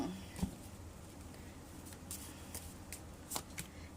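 Tarot cards shuffled and drawn during a Thai tarot love reading, a soft steady riffling and rustling of the deck with a few sharper flicks as cards are pulled, quiet and close.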